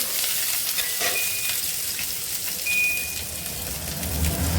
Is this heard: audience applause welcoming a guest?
no